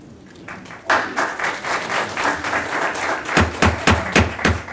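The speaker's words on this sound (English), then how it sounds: "I'd prefer you not to be clapping after each person makes a point" Audience members clap at a City of Franklin board meeting, a close, loud burst that settles into uneven clapping and ends in a few distinct sharp claps, with no talk over it.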